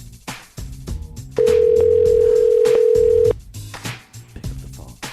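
A telephone tone sounds alone as one loud, steady held note lasting about two seconds, set between stretches of background music while a caller waits for someone to pick up.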